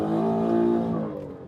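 The V8 of an Aston Martin Vantage pulls hard into a drift, a brief loud engine note with clear harmonics that fades slightly at the end.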